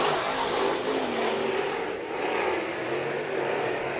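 Race cars roar on a dirt-track restart at Bakersfield Speedway, a dense, steady engine drone holding at loud, close volume for several seconds with slight swells as the pack accelerates.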